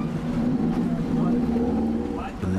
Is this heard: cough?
no